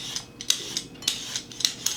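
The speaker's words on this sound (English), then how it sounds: "just get a peeler, cucumber, and just peel it down" A cucumber being peeled with a peeler: a series of quick, light scraping strokes in an uneven rhythm, close and fairly crisp, with no talking.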